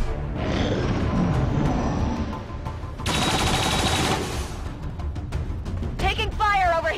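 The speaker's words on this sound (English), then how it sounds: "Taking fire over here!" Gunfire in the video game XCOM 2, with bursts of automatic shots and fusillades running almost continuously and loud, mixed under excited speech.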